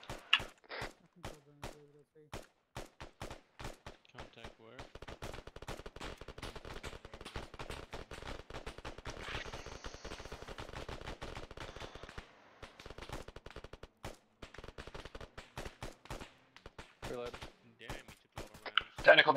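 Video game gunfire aimed at a technical vehicle, a long run of sharp shots and rapid bursts, some close and loud, others fainter, with brief gaps between volleys.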